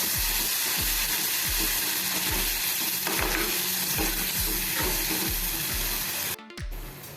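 Ground masala of roasted onion, garlic and coconut sautés in hot oil for a village-style chicken curry, a constant close sizzle with a spoon scraping the pan in a steady rhythm about twice a second.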